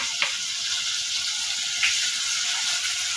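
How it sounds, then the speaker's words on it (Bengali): Green chilies frying in a pan with a steady, soft sizzle running throughout, with a couple of faint clinks or stirs and no talking. "এগুলো দিয়ে আমি আর 1 মিনিট ভেজে নিব।"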